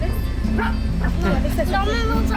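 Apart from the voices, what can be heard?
excited dog barking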